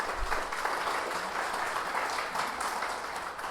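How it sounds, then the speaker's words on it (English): An outdoor audience at a memorial garden announcement gives a round of applause, a soft, diffuse wash of many hands clapping at a distance, continuous and fairly faint throughout. "Give yourselves a round of applause for being here"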